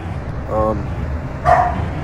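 A pet dog barks twice indoors, two short, fairly loud woofs about a second apart over a low background hum.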